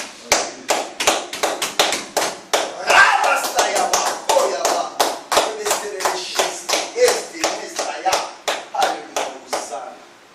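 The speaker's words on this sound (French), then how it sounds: "Acclamons Jésus." A church congregation claps in unison in a steady, fast rhythm of sharp, evenly spaced claps lasting about ten seconds, with voices singing or calling out underneath.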